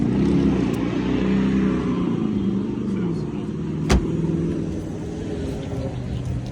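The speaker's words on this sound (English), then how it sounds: "I actually got 3 inches exhaust all the way back" Deep, steady exhaust rumble from a lowered Toyota Camry with a 3-inch exhaust, idling close by, with a voice talking over it and a brief sharp click midway.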